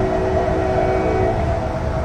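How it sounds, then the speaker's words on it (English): A CSX autorack freight train rolls past Dorsey Station, its heavy rumble steady and loud throughout, with a sustained horn tone riding over the wheel noise. "whatever train is coming west"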